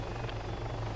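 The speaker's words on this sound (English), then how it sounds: "Get in the helicopter." A military helicopter in the game Arma 3 drones steadily nearby, loud continuous rotor thrum and engine whine with no break, heard alone.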